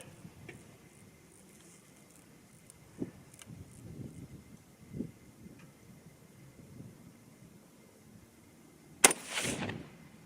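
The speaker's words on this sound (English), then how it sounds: "I'm going to shoot the target right next to the last one I shot." A single 300 HAM'R rifle shot fired at a target, a sharp, loud crack with a brief rumbling tail that arrives near the end after a stretch of quiet outdoor ambience with faint bumps and rustles.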